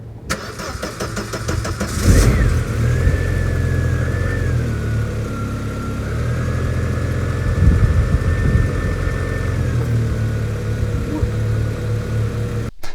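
An Audi 80 engine cranks briefly, catches and settles into a steady, smooth idle, recorded close up with a faint whine running over the rumble.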